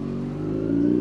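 A motorcycle engine revs steadily in traffic on a road trip in the Philippines, a close, continuous mid-pitched drone that swells slightly louder toward the end.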